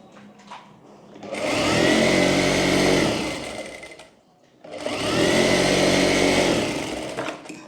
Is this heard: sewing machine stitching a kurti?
yes